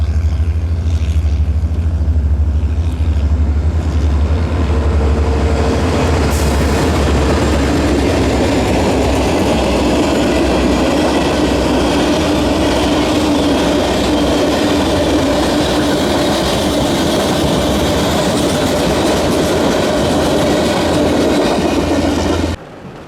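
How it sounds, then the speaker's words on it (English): A Southern Pacific train rumbles past close by for a long stretch, a loud continuous roar of rolling wheels and engine with rhythmic rattling, fading only at the very end. "I'd catch the train rolling by"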